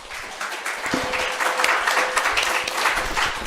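An audience at a Korean church installation service for a regional elders' association president claps in applause after the inaugural address, a steady, dense patter of many hands lasting a few seconds at even loudness.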